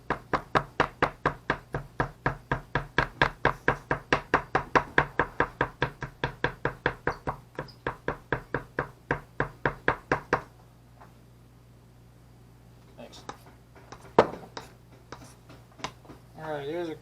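Garlic cloves are chopped on a cutting board with a quick, steady run of crisp knife knocks for about ten seconds, then a pause and a few scattered taps, with light speech in the background.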